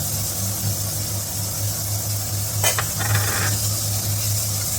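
Ginger, pork and bottle gourd with onion are stirred in a hot pan, making a steady, fairly loud sizzle with a brief scraping stir partway through, over a low background hum and without speech.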